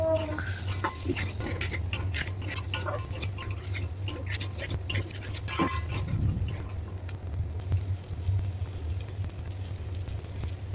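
Fried bitter gourd and potato being stirred into a cooked-down spice paste in a pan: quiet, continuous scraping and clicking of a spoon against the pan over a low steady hum, with no voices.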